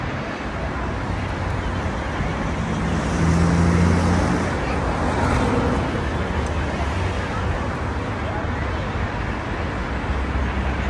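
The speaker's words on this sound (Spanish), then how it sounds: "Aquí en la Plaza de la Independencia, vean el tráfico que hay" Dense city traffic roaring at Plaza de la Independencia in Madrid, Spain, a continuous broadband wash of cars and buses with a slight swell midway, steady and fairly close, no talking.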